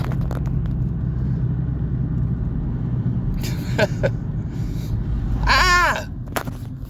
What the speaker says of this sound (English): I'm driving right now.